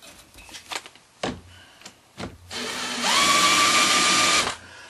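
Power trimmer cutting down a .223 brass case to make .300 AAC Blackout, with a few sharp handling clicks and knocks before a steady whirring cut that runs for about two seconds, close up.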